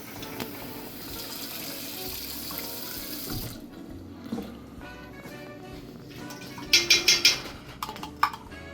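Tap water runs steadily into an empty tomato paste can for a few seconds while Italian gravy is being made. The flow then stops, followed by a few sharp clinks and a quiet pause.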